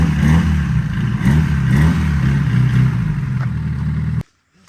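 EK turbo project car pulling away in first gear: a loud, steady low engine drone with rough clatter runs for about four seconds, then cuts off abruptly into near silence.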